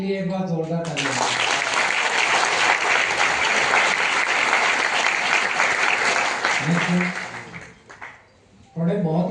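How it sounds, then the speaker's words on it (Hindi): An audience at a leadership training program at a Delhi ISKCON temple breaks into loud, vigorous clapping after a brief spoken lead-in. The applause stays dense for several seconds, fades out, and a voice resumes. "इतनी बढ़िया सोच के लिए एक बार जोरदार तालियां।"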